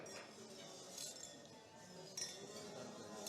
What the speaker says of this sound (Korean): 우리 다 같이 잔을 드시면서